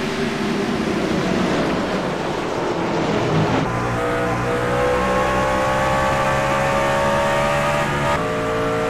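Racing trucks roar down the track on a restart after the green flag, loud engines revving and accelerating in a thick overlapping drone that shifts pitch as they pass.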